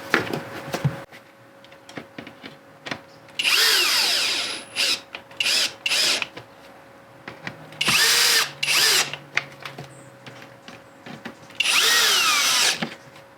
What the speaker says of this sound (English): Don't use your drill at the highest setting.